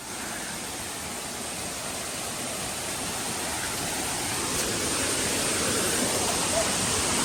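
A steady, dense roar of water pouring over a waterfall near Manuguru, broadband and continuous at close range, holding an even level throughout with no voices.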